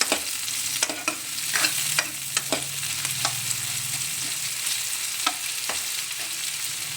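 Chopped onions frying and turning red in a pan give a steady close sizzle, broken by repeated sharp scrapes and knocks of a spoon stirring them at irregular intervals; no voices are heard.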